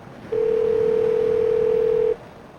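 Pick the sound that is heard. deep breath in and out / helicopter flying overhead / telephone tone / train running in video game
telephone tone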